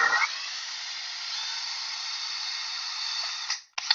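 A small drill bit grinds into an oyster shell kept wet with water, a steady high whining drone that holds for several seconds before cutting off abruptly, then a brief restart.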